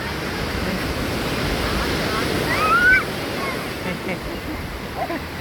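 Sea waves wash and surge along Marina beach, a constant broad roar of surf with wind buffeting the microphone, plus a brief faint high whistle-like tone near the middle.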